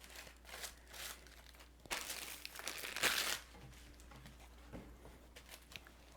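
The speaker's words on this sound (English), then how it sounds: "You take it out of the little plastic wrap, and then you unroll it." Phyllo dough for Greek baklava, crinkling and rustling as it is unwrapped from thin plastic wrap and unrolled on a counter, with a louder burst of crumpling partway through and softer rustles around it, close by with no talk.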